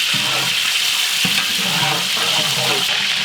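Mustard seeds and curry leaves fry in hot oil for a misal pav, giving a loud, steady close sizzle with faint popping crackles throughout.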